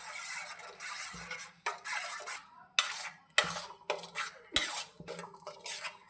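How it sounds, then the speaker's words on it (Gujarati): A spoon stirring a thickening bioplastic solution of glycerin and vinegar in a pot on a gas stove, with irregular bursts of scraping and rubbing against the metal, close and moderately loud, separated by short quiet gaps. "હવે તે ઘટ્ટ થાય ત્યાં સુધી તેને હલાવો."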